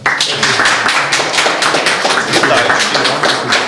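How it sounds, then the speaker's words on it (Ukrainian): An audience at a museum award ceremony breaks into dense, continuous applause, close and loud, with many hands clapping at once and no voices over it. "Аплодисменти"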